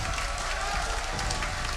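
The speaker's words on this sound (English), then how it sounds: "Fnatic faithful cheering as always" Fnatic fans cheer and clap at a League of Legends EU LCS Summer 2017 semifinal playoff match, forming a continuous loud wash of applause and crowd noise with no pauses.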